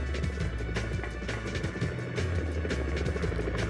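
A helicopter in the video game Jackie Chan Stuntmaster, a steady, loud rotor drone with rhythmic blade chopping that carries through the whole stretch, alone without talk.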